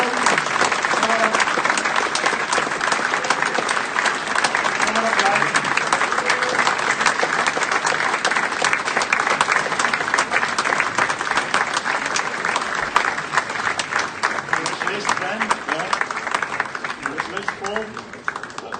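A conference crowd at an opening general session gives sustained applause for lifetime champions, a thick, continuous clapping that holds for a long stretch before gradually thinning.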